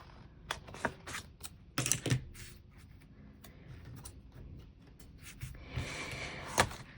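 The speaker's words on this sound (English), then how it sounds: "and then we'll just trim this off" Paper trimmed in a Happy Planner vertical layout, heard as a run of crisp, close snips and slicing strokes with paper handling between them, moderately loud, with no talking.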